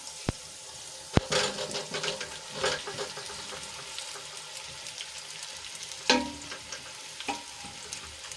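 Low, steady sizzling of cut fenugreek dumplings frying in a pan, with a few sharp clicks and scrapes of stirring; no one speaks.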